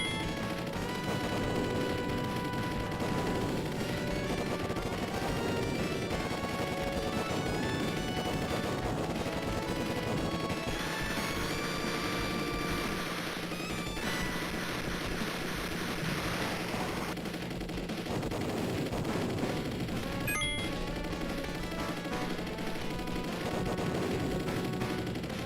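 Continuous rapid gunfire from a player's ship in a PS4 shoot 'em up plays over dense game music and effects, a steady wall of sound lasting the whole stretch.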